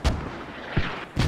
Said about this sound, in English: mortars getting launched directly on Hemp Farm flag on where the helicopter marks are at